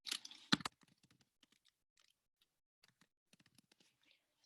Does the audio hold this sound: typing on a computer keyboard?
yes